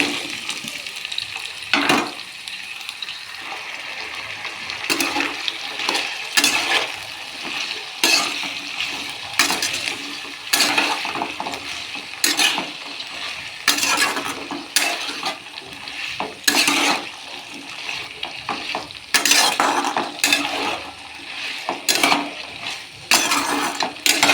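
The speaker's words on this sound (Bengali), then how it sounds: "মশলাটা একটু কষে নেব মশলাটা কষানোর পর কেটে ধুয়ে রাখা চাল কুমড়ো দিয়ে দেবো" A spice paste being stir-fried in a pan, then chopped ash gourd added, for a vegetarian poppy-seed dish: repeated scraping and clinking strokes of a spoon against the pot over a low sizzle, steady and close, with no talking.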